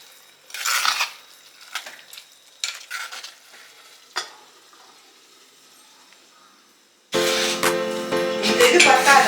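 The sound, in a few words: stirring prawn masala in a pan, then covering with lid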